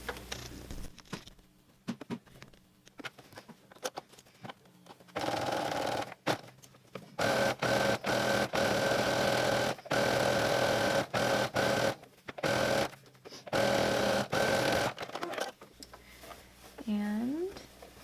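A sewing machine stitches down the folded hem of a cottagecore-style waist apron in several bursts of steady running, separated by short pauses, with a voice also present.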